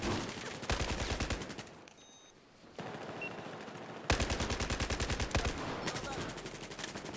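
Rapid automatic gunfire in Battlefield 4, loud bursts of evenly spaced shots with a brief quiet gap in between, close and dominant.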